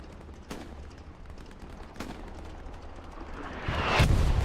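Artillery shells land on tanks in Hell Let Loose, heard as distant, muffled booms at irregular intervals, with a heavier, closer impact near the end over a low rumbling battlefield background.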